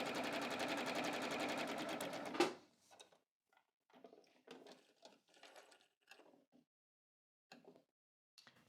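A sewing machine runs in one steady mechanical burst for about two seconds while stitching a pant in-seam, then stops, leaving faint clicks and handling noises of fabric and the machine.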